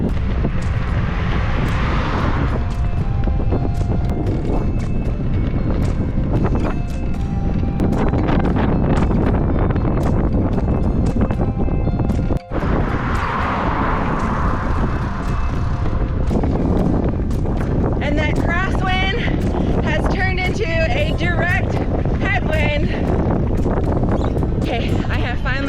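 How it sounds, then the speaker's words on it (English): Strong crosswind buffeting the microphone during a Priority Current e-bike ride on an open, exposed road, a loud continuous roar that runs throughout under a rider speaking. "there's nothing to block the wind, and we just have a straight crosswind"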